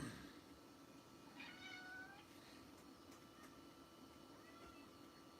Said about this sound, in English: Hey, Studio Cat. How are you, Studio Cat?